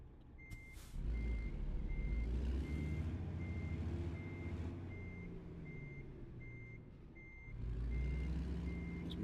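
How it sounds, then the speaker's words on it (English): A truck in American Truck Simulator backing up and turning around, steady reversing beeps repeating over a low diesel engine rumble that swells and fades, no talk. "We'll get the truck turned around and hooked up."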